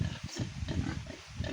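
Pigs and piglets in a backyard pig pen, a short burst of close, low grunting and snuffling oinks, fairly faint, with no talk.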